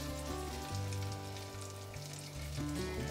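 Veal shanks for osso buco are laid into hot oil and butter in a pan, setting off a continuous crackling sizzle that rises and falls while they sear, with no voices.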